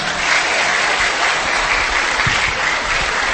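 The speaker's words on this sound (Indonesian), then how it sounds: "Kasih tepuk tangan lu buat Farid." Steady, dense applause from a live audience at a charity-giving religious talk, a loud continuous wash of clapping filling the whole stretch with no voices over it.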